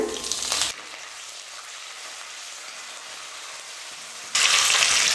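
Curry leaves and red chillies hit hot oil that already holds mustard seeds for a tempering, giving a loud, bright sizzle. It bursts at the start, drops to a quiet lull, then flares up again near the end.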